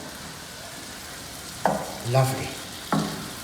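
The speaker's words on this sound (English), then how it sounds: "Now we will mix it together, and we will leave it for 15 minutes to boil. Just mix everything together." Pasta sauce of tomato and basil being stirred in a pot, with a few distinct scraping stirs and a soft bubbling sizzle beneath, near and moderately loud; a voice speaks a single brief word.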